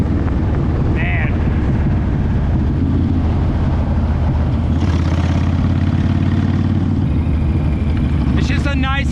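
Honda Sabre VT1300CS motorcycle engine droning steadily while riding, a loud low continuous rumble with wind noise throughout, and a voice talking over it.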